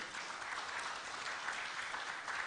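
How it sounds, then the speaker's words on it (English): Audience applause at an online business conference, a steady wash of many hands clapping together, fairly faint and distant-sounding, unbroken for a couple of seconds with no speech over it. "So, big round of applause to you"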